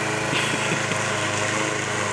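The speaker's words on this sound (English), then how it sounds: "He using a lawnmower, Bob." A lawn mower engine drones steadily and close throughout, a continuous high-pitched whine pushed uphill during an outdoor fitness challenge, with no talk over it.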